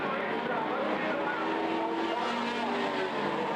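F4 race cars roar around All American Speedway in a main event, a steady blended engine drone at moderate distance with a faint whine rising and falling as cars pass.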